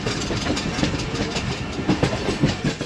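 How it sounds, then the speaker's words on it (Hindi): The 6 Down Green Line Express passenger train rolls by on the track in Pakistan, loud and close, with rhythmic clickety-clack of wheels over rail joints and a continuous rumble. "6 डाउन ग्रीन लाइन एक्सप्रेस भी इस वक्त बिल्कुल हमारे सामने आ चुकी है"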